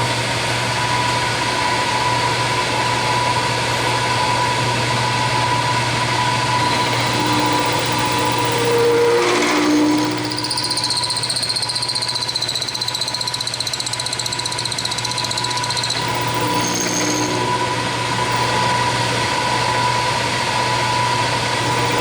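A metal lathe cuts a small recess for a homemade manual knurling tool, giving a steady machine drone with a brief scraping burst midway, close and alone with no talk.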